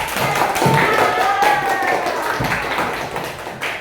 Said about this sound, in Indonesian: Tepuk tangan untuk kita semua anak-anak hebat Ibu.